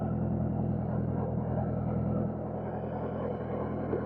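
A vintage 1977 Honda Hondamatic CB750A motorcycle idling in neutral, a steady, close low rumble that holds even throughout with a slight drop partway.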